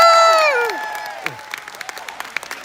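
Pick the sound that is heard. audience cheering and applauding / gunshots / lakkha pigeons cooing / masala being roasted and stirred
audience cheering and applauding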